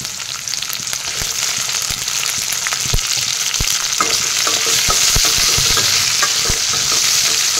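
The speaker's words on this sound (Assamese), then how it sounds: "পিঁয়াজখিনি এয়া ৰংচঙুৱা হৈছে ইয়াতে এতিয়া মাছখিনি দি দিছোঁ" Fish pieces fry in a pan with browned onions for a fish curry, producing a loud, close, steady sizzle with sharp clinks and scrapes from regular stirring, and no talking.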